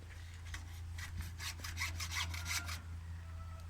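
A hand saw cuts through wooden bed floor boards in steady back-and-forth strokes, a close rasping rhythm that speeds up briefly before settling, heard alone over a low steady hum.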